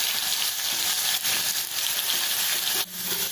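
Crushed garlic and mustard seeds sizzle steadily in hot oil in a pan, a close, continuous frying hiss with a couple of brief stirring bumps and no talking.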